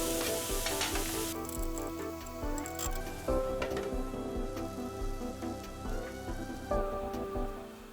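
Minced meat and onions fry in a pan with a loud, continuous sizzle, close and steady, with occasional scraping as the mixture is stirred.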